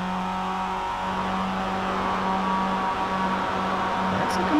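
Mazda race car engine in an Advanced Mazda Cup round on the Nürburgring Nordschleife, holding a steady drone with a slight dip as the driver may ease off the throttle, heard at a moderate distance.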